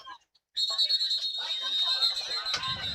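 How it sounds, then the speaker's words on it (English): A referee's whistle at a high school football game, heard as a long shrill blast that starts abruptly after a brief pause and rings over crowd noise. "And whistles blow."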